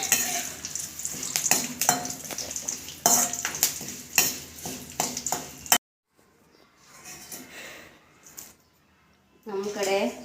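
Curry leaves frying in hot oil in a pan for a North Karnataka dish, giving a loud crackling sizzle with stirring and utensil clatter that stops abruptly, then faint kitchen noise and brief talk.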